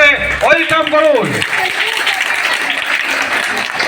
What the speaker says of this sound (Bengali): সবাই মিলে একটু হাততালি দিয়ে ওয়েলকাম করুন।